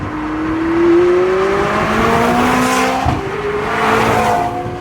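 A turbocharged McLaren 675LT sports car accelerates hard and loud, its engine note climbing steadily in pitch, dipping briefly at a shift, then rising again.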